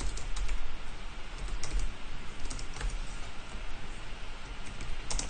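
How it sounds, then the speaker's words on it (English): Steady typing on a computer keyboard, a close, rapid patter of key clicks with a few heavier strokes, heard alone. "I'm going to type everything exactly the way I see it"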